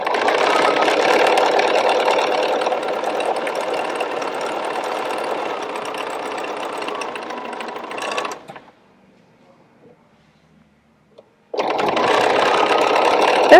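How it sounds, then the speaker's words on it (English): A sewing machine runs continuously as it stitches around the edge of a fabric face mask, a loud rapid whirring hum that stops for a few seconds of near silence and then starts again. "I'm going to sew all the way around my mask"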